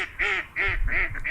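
A mother duck quacks four times in a quick, rhythmic run, loud and close with no talk.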